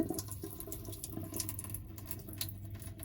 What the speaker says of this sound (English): The first thing we're gonna do is we're gonna wash the quinoa.